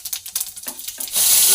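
Fennel seeds hit hot oil for a tomato pickle, setting off a sudden loud, steady sizzle after a few soft clinks of utensils.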